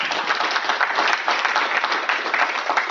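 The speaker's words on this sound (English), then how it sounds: "Let's give a round of applause to Dr." Conference audience at an IoT summit in Banff applauds a speaker, sustained dense clapping from many hands, fairly loud and steady throughout with no talk.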